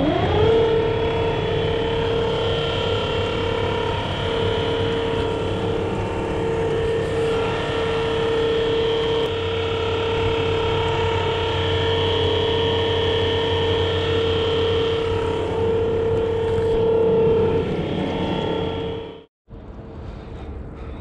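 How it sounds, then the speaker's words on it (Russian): A homemade electric boat motor with a gear reducer runs under load with a steady, tonal electric whine for a long stretch, then abruptly cuts out near the end before briefly starting again. "Мотор постоянно выключается. Причем выключается только когда двигается вперед."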